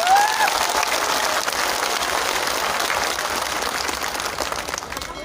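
Crowd applauding at an outdoor solidarity rally at Jantar Mantar, a broad sustained wash of many people clapping from start to finish, loud at first and easing slightly toward the end.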